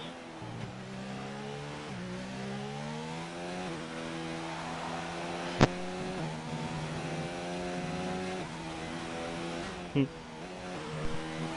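Formula 2 race car onboard in a racing video game, engine note rising and falling through the gears as it approaches a hairpin, loud and continuous with sharp clicks near six and ten seconds.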